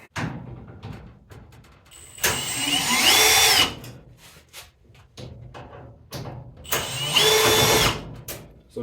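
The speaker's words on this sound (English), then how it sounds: "And that's done by removing 4 screws." A power drill backs screws out of an LG dryer panel, two loud whirring bursts of a few seconds each with a rising pitch, separated by quieter handling noises, no speech.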